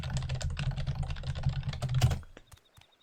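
Rapid typing on a computer keyboard, a dense run of close, crisp key clicks for about two seconds, then a few isolated taps as it stops.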